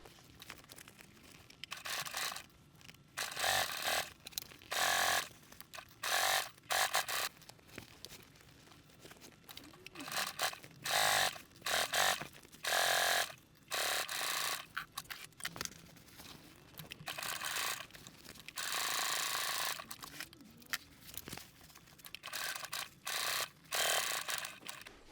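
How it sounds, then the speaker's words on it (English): A domestic sewing machine stitching the long side seams of a fabric convertible tote-backpack bag, running in repeated mechanical bursts with short pauses between stitching runs, close and steady with no talking. "So I'm going to sew the long sides first, and then I'm going to clip and sew the short sides."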